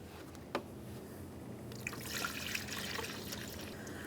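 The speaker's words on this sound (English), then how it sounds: "Continue on with that funnel, remove the plunger from in the center, and add coolant as necessary" Coolant poured through a funnel into the radiator of a 2012-2015 Honda Civic 1.8L, a soft continuous trickle and gurgle of liquid that swells slightly partway through, close and quiet with a faint knock at the start.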